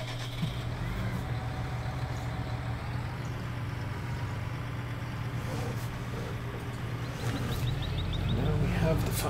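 A tractor engine driving through snow in Farming Simulator 19, a steady low droning rumble that holds throughout and swells slightly toward the end, with faint clatter on top.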